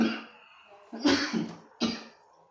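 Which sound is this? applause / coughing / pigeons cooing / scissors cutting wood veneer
coughing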